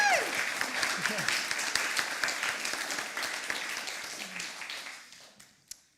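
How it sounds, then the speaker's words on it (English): A crowd applauds steadily, dense clapping holding for several seconds before thinning out and fading, with a last few scattered claps at the end. "Worth a clap."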